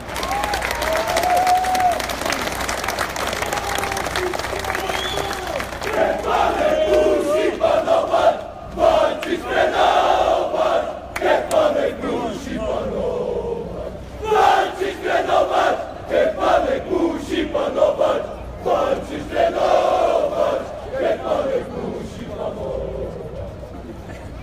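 Crowd at the Hetman Zamość football club team presentation applauding in a long, steady burst of clapping, with cheers and shouts rising and falling, and a voice on a public address speaking over it.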